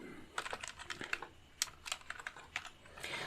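Rapid keystrokes on a computer keyboard while code is being written, coming in uneven bursts of close clicks with short pauses and no voice.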